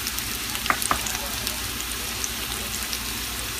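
Potatoes and onions frying in a cast iron Solidteknics AUSfonte sauteuse pan, a steady close crackling sizzle with a couple of brief sharper pops early on.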